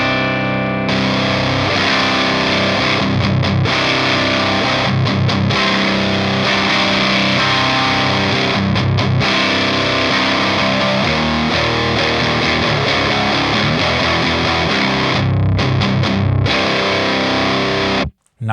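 Electric guitar played through a Lichtlaerm Death Über Alles distortion pedal with the boost off, giving a thick, fat, saturated tone; loud continuous chords and riffs with brief gaps, ending in a short cutoff.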